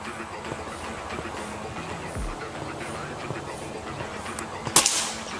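A new air rifle at Hamz Sport fires once at a target, a single sharp crack near the end after a stretch of quiet background.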